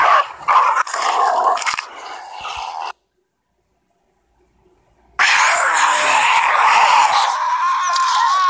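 A dog in the zombie video game Into the Dead barks and growls loudly in two bursts separated by a short silence, with no talk over it.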